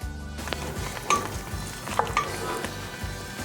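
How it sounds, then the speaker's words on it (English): Drained pasta is stirred into a broccoli-cheddar cheese sauce in a skillet: a close, thick squelching stir with soft spoon scrapes over a faint sizzle, and no voices. "And then we'll just give this a good stir so everything gets coated in that delicious cheese sauce."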